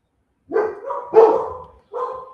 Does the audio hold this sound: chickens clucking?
no